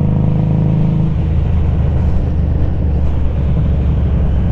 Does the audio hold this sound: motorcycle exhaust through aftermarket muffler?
yes